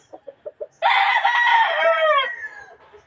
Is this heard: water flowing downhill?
no